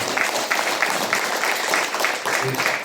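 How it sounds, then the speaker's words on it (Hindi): Audience at a spiritual gathering in Pune, India, clapping in welcome, with steady rhythmic applause running through the whole moment, fairly loud and close. "स्वागत है ताली मारो"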